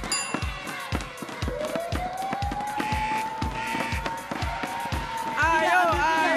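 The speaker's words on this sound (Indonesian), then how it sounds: "Tepuk tangan dong teman-temannya." Children clap their hands in a steady, evenly spaced rhythm of sharp slaps, roughly two per second. Voices and a rising tone carry over them.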